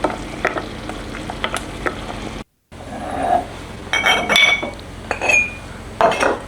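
Plum jam at a rolling boil in a pot gives off irregular bursts of bubbling and popping, close and fairly loud, interrupted once by a brief silence, with occasional faint clinks.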